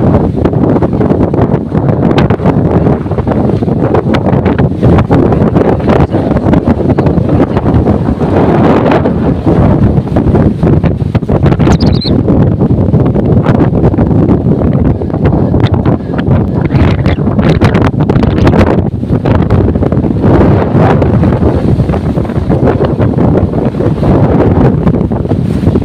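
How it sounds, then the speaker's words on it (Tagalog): Strong wind buffets the microphone in a steady, loud roar through a house by the sea in heavy weather with big waves, with broadband rumble and gusty surges throughout and no talk. "Nadadala tayo sa lakas ng hangin."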